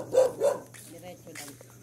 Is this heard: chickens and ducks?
no